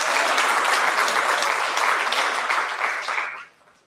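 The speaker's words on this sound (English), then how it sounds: "Give Sibusiso a round of applause." Audience at a business workshop bursts into dense, sustained applause close by, holding steady for about three seconds before quickly fading out, with no talking over it.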